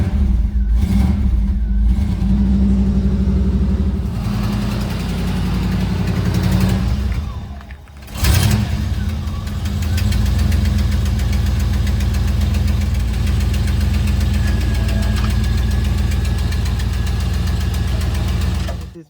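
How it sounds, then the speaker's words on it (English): A Pontiac Trans Am engine with a leaking exhaust gasket starts and runs in cold weather, giving a loud, steady low rumble with knocking. The sound dips briefly partway through, then resumes at full strength. "Engine starting up for the very first time."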